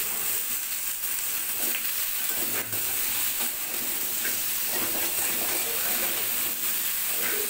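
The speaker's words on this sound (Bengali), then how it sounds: "কাঁচা কুমড়াটা দিয়ে ভালো করে নেড়ে চেড়ে কষিয়ে নিব।" Raw pumpkin stir-fried in a kadai, just emptied of hilsa fish, gives off a loud, steady sizzling hiss with faint stirring scrapes throughout, close and continuous with no talk over it.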